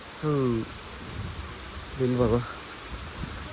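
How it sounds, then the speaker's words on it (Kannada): Steady rain falls on a road lined with mango trees, making a continuous soft hiss; two short bursts of a voice rise above it. "ಮಳೆ ಬರ್ತಾ ಇದೆ."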